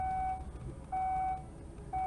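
A 2003 Kia Sedona's door-open warning sounds in three long, evenly spaced electronic beeps over a low background hum, fairly close.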